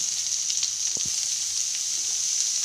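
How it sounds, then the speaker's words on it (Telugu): Curry leaves fry with sliced onions in a pan, a constant bright sizzle with a couple of faint stirring knocks near the middle, close and steady. "అందులోనే కొద్దిగా కరేపాకు వేసి వేయించుకోవాలి"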